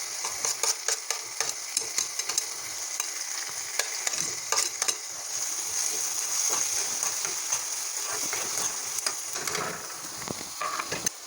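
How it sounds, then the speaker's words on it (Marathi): Onion and green chili fry in hot oil for egg bhurji. A steady crackling sizzle runs throughout, broken by frequent quick scraping and clicking strokes of a spatula against the pan, near and moderately loud. "तेल आपलं चांगलं तापलं आहे कांदा घालून परतवून घेऊया त्याचबरोबर मिरची देखील ॲड करून घेऊया"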